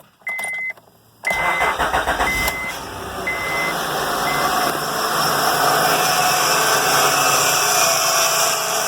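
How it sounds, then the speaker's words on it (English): A 2005 Honda Odyssey minivan engine cranks and catches after a couple of short electronic beeps, then settles into a steady, close idle with a faint whine running throughout. "let me start the engine up, circulate that"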